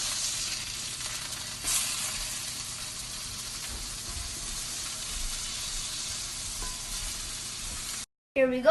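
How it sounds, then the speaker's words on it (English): Burgers sear in a pan with a dense, steady hissing sizzle, close and fairly loud, before a brief cut near the end with a short clatter. "When we sear the burgers, it's going to cook the outside, not the inside."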